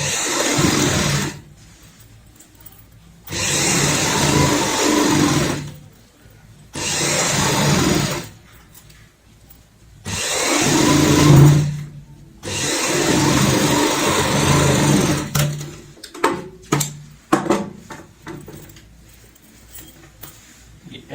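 A sewing machine stitches a zipper onto a shopping bag made from an old shirt, running in loud bursts of several seconds separated by pauses, then ending in short choppy stitching spurts.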